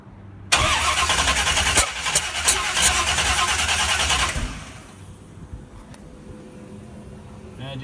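A C1 Corvette with a 330 small-block V8 on FiTech EFI cranking without firing: a loud starter whirr for about four seconds, ending abruptly, leaving a quieter background with some faint noise.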